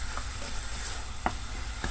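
Spaghetti sauce being stirred in a pan, a soft steady sizzle broken by a few sharp scraping knocks of the spoon against the pan, close by with no talking.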